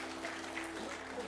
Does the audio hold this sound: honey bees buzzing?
no